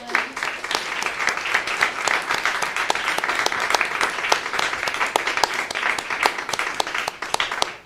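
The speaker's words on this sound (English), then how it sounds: "Can we have one final round of applause for Véronique Hyland?" An audience at a talk-event gives a final round of applause for author Véronique Hyland, many hands clapping in a sharp, continuous patter that holds steady for several seconds with no voices over it.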